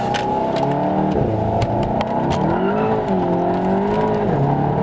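A tuned VW Golf 7 GTI making huge power accelerates hard with traction control off, the engine revving up through gears with short shift dips, loud and close with brief tire chirps.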